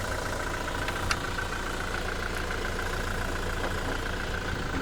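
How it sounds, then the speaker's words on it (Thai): A 2018 Toyota Revo 2.4 E four-door pickup idles steadily with a smooth, even hum and one faint tick, heard at moderate distance with no voices. "เดี๋ยวเราไปดูที่ห้องเครื่องยนต์กันต่อเลยนะคะ สตาร์ทรถไว้ให้อยู่เนาะ"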